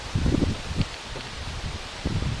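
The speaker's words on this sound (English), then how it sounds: "it is still very windy" Strong gusts move through leaves outdoors, bringing soft rustling swells that rise and fall with microphone buffeting in between.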